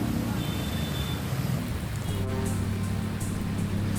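Heavy rain during a downpour on Jalan Daan Mogot in West Jakarta, a steady dense hiss of falling water with low rumbling underneath, continuous and fairly loud throughout.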